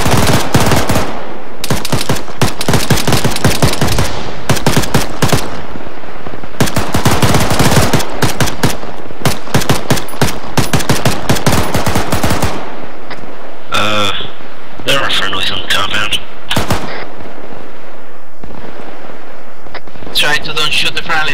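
Rapid bursts of machine-gun and rifle fire with heavy artillery booms in a Soviet–Afghan war military video game, loud and nearly continuous, thinning into scattered shots later, with voices talking over it.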